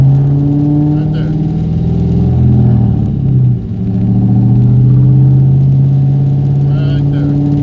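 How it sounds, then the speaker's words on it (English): A 1998 SN95 Mustang Cobra driving in first gear, its engine droning steadily with a light tapping rattle from the interior, a brief dip in the engine note midway. "And all this car rattles in the inside."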